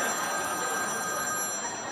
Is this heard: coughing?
no